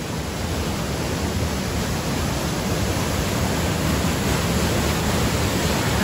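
River water at Walls of Jericho, Alabama, flowing hard over a big fall, a steady, loud, broadband roar of rushing water with no pauses.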